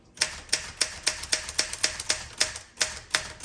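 Keys strike on a 1968 Olympia SM9 manual typewriter, about a dozen crisp, close clacks at a fairly even typing rhythm in a quiet room.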